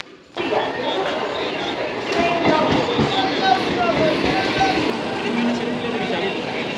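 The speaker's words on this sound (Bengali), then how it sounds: "বারাসাত থেকে শিয়ালদাগামী ট্রেন ধরে কিন্তু আমরা চলে এলাম দমদম জংশন" A Barasat to Sealdah local train runs on the rails toward Dum Dum Junction, a steady close rumble and rattle from inside the carriage, with some voices in the background.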